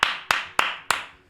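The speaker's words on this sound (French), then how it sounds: "félicitations à vous, vous pouvez vous applaudir" Four sharp, separate hand claps at a steady, fairly quick pace, close and dry, with quiet gaps between them and no talking.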